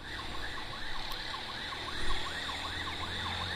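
Ambulance siren wailing in a steady repeating up-and-down sweep, continuous and moderately loud over street traffic noise, with no talking.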